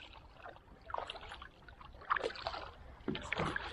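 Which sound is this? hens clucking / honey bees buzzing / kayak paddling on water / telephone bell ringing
kayak paddling on water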